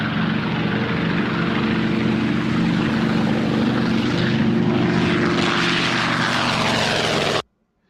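RC model warbird airplane with a propeller engine taking off, a loud steady droning buzz close by that holds evenly throughout, then cuts off abruptly at the end.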